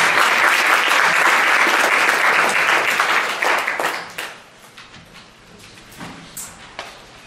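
An audience claps to welcome a speaker at a scientific workshop session: loud, dense applause that fades out after a few seconds into a few scattered claps.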